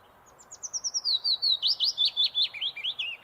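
Willow warbler song in the countryside: a clear, close descending cascade of rapid sweet whistled notes, about fifteen phrases rolling downward over three seconds, alone against a faint background hiss.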